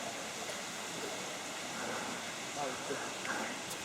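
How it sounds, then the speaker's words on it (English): Motorcar Falls in the Northern Territory gives a steady broadband rush of falling water, moderately loud and unbroken, with faint voices heard underneath. "So this is Motorcar Falls, and that's the waterfall going all the way up there."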